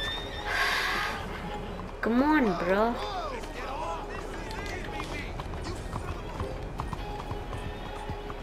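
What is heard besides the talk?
horse galloping in video game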